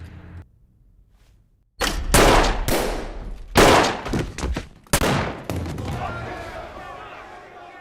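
Loud gunshots ring out in a deadly game of chance where each gun holds two bullets. After a near-silent opening, several sharp blasts come in quick bursts, with a noisy, reverberant tail.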